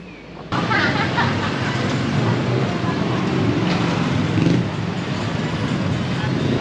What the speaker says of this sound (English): I apologize if the traffic is a little bit loud on my GoPro here.